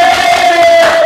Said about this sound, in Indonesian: Tepuk tangan buat Topik.